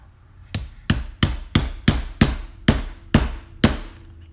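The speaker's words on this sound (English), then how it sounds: "We're gonna knock that out of the way, and I use my little stubby hammer for that." A small stubby hammer drives out a roll pin with nine sharp metallic blows at a quick, even pace. Each strike rings briefly and sounds close and loud.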